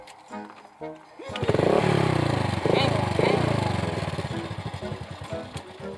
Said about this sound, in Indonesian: Awas ya motor ulah ngadat deui.